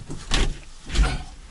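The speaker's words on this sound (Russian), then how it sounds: "Вот открывается. Видишь? Дверь здоровая" The door of a 1977 LuAZ car opens close by, a short metallic clunk and scrape followed by a second thud a moment later.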